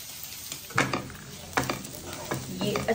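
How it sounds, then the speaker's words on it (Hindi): Capsicum and onion sautéing in a pan while paneer is prepared for a paneer roll, giving a soft steady sizzle broken by a few louder scrapes and stirs, fairly quiet and with no speech. "तो जब तक हमारा कैप्सिकम और अनियन जो सौते हो रहा है"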